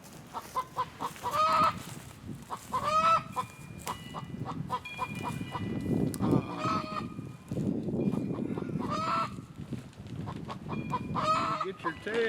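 Chickens cluck and squawk in repeated bursts close by near a tent where a hen may be laying eggs, with rustling and movement between the calls.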